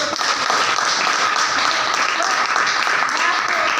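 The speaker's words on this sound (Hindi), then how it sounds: "बजाओ ताली अपने लिए" Dense, loud applause from a seated audience fills the room as a continuous wash of clapping.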